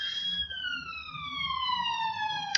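A police siren passes outside, its wailing tones sweeping downward as it moves by, clearly audible over faint background room noise.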